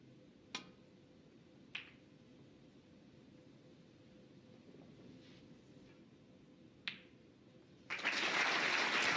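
Snooker crowd at the Turkish Masters 2022 final breaks into applause late on, a loud dense burst of clapping after a quiet stretch marked by a few isolated sharp clicks of balls.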